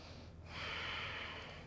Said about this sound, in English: taking a nice deep breath in